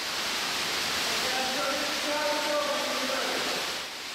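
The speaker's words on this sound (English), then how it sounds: "a massive cavern with a huge waterfall coming down from the right-hand wall" A huge waterfall pours down a cavern wall inside Cliff Cavern in Speedwell Caverns, a steady broadband roar echoing through the cave, with faint tonal sounds under it.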